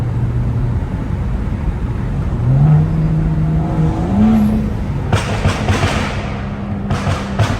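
A straight-piped BMW 335i E92 with the N55 engine rumbles loudly from inside the car, its pitch rising in revving swells and ending in crackling pops and bursts.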